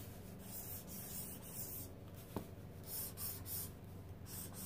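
Pencil sketching spheres on paper, soft, close scratching strokes in repeated bursts with a small tap partway through, with no talking.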